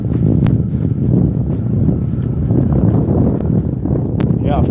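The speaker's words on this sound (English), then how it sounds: "Wow, it is definitely windy today." Strong autumn wind buffets a handheld phone gimbal's microphone outdoors in Indiana, producing a loud, continuous low rumble that fills the whole stretch.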